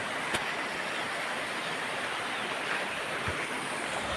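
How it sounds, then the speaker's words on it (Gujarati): Steady broadband rushing of a river flowing through forest, continuous and moderately loud with no voices. "આ છે નદી જુઓ મિત્રો"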